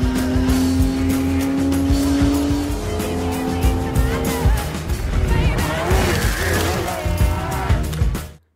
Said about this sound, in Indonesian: Dengan menggunakan mobil Porsche 911 GT3R tahun 2023, Hayes